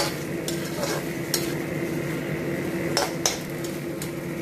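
Tofu and chopped garlic chives are stir-fried with oyster sauce, a steady soft sizzle under scraping and a few sharp utensil taps against the pan, close and without talk.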